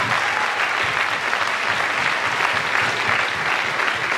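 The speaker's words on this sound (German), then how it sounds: "Also dafür auch nochmal einen großen Applaus." Sustained audience applause fills a steel drum orchestra concert hall. The clapping is dense, even and continuous throughout, with no voices above it.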